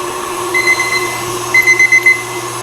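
A cheap kitchen timer goes off in a home kitchen, sounding a rapid series of shrill electronic beeps in two bursts over a steady tonal background hum.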